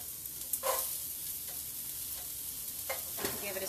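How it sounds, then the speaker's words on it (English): Carrots dropped into a soup pot for vegan minestrone, a quiet steady sizzle with a few sharp scraping stir clicks and clatters scattered through, no talking. "Carrots in the pot."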